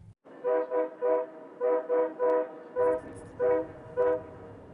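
Train horn at an Amtrak station, sounding in about nine short, separate blasts with a steady rhythm. The blasts are loud and close, and the low rumble of a train rolls beneath the later ones.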